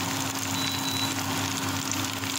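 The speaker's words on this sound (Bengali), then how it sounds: "রান্না বসিয়ে দিচ্ছে, মাছ ভাজা হচ্ছে" Bata fish fry in a pan at home with a steady, dense sizzle that holds even and close throughout, with no talking over it.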